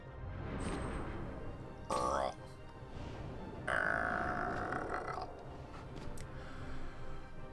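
Exaggerated cartoonish burps in Kingdom Hearts Final Mix, two loud rumbling belches a couple of seconds apart over a steady game background with grunting.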